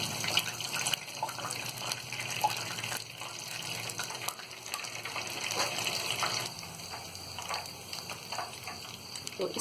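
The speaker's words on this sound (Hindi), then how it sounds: "और इसी तरह हम सारे पीसों को फ्राई कर लेंगे।" Chicken pieces deep frying in hot oil, a steady, busy crackle and sizzle with dense popping throughout, close and fairly loud, no talking.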